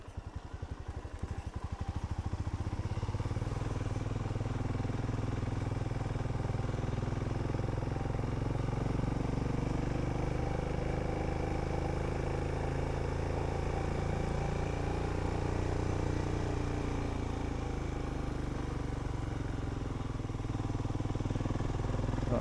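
A Royal Enfield Himalayan motorcycle engine runs steadily and loudly throughout, a low, thumping single-cylinder drone with some rattle, no speech over it.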